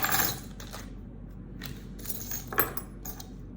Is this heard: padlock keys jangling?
yes